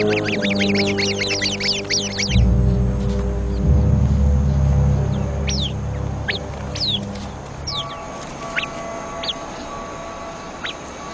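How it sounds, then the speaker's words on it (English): Sharp, repeated bird alarm calls ring out in quick bursts over a low rumbling background, then scattered single chirps follow more sparsely. "The sentry bird immediately sounds the alarm."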